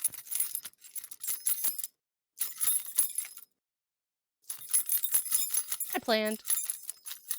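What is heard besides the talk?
keys jingling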